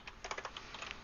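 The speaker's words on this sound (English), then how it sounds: "from our terminal, we could try to ping our host PC by simply typing ping" Keys tapped on a computer keyboard while entering a ping command in a terminal, a short run of quick, light, close clicks in small irregular bursts.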